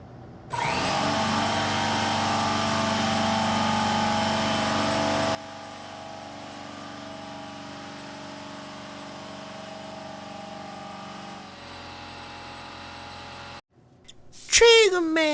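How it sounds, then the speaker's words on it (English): Small pancake air compressor running loud and steady for about five seconds, then continuing at a lower, droning level, with brief quiet gaps and clatter near the end. "Man, you're using the little pancake compressor, bro."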